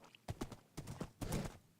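Hooves clip-clopping in a rapid, uneven rhythm during a video game horse race, coming in several close, loud bursts with short gaps between them.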